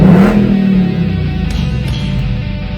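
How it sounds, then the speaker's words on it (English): A 2019 Ford Mustang GT V8 revs loudly and close up, with a strong deep rumble that eases slightly after the first second and holds steady throughout, with no speech. "Car sounds great."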